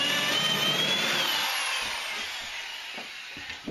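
Power drill boring a hole through wood for a nesting box, a loud steady whine that fades out as the bit finishes, followed by a few light knocks and handling sounds.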